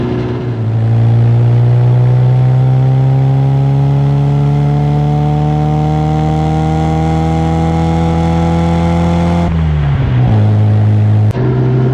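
A small classic A-Series engine revs up loudly and holds a high, steady droning pitch, then drops and blips again near the end, close and strong.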